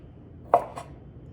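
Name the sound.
knife slicing sausage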